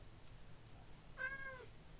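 A single short cat meow from a Minecraft game, faint and soft, rising over a low steady background hum.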